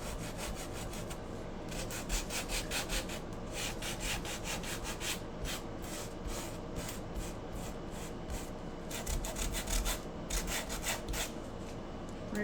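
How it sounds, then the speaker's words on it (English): Electric sander running steadily on wood with 80 grit paper, a continuous abrasive rubbing hiss with rhythmic scraping pulses, close and moderately loud with no talking. "take my sander. This is 80 grit."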